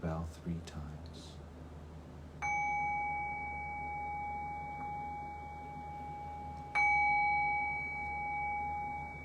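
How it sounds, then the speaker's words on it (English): A meditation bell is struck twice in a quiet room, each strike giving a clear, sustained ringing tone that slowly fades, with faint room noise underneath. "I'll cue that by ringing the bell 3 times."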